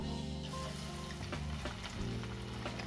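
Noodle pakoras sizzle in moderately hot oil as they are dropped in, giving a steady close crackle over a tonal musical backdrop, with no talking.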